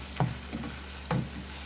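Sautéed courgette with minced beef fries in a pan, a steady low sizzle broken by two soft stirring scrapes, close and alone, with no talking.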